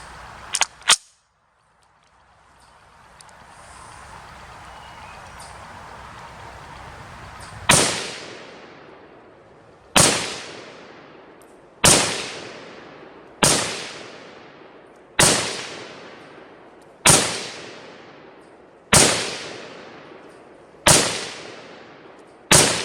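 A string of nine loud SKS rifle shots, each a sharp crack with a ringing outdoor decay, fired at a steady pace of roughly one every one and a half seconds after a brief quiet stretch.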